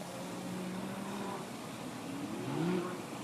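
A Lamborghini drifting in circles on a track at Bukovel ski resort, its engine a distant, steady drone with rising revs and whining pitch sweeps, heard faintly from afar.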